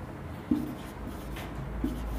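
Marker or chalk strokes scratching across a classroom board during an English grammar lesson, a soft continuous rubbing with two sharper taps near the start and end, close and fairly quiet, no speech.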